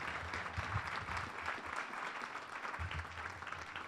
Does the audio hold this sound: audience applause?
yes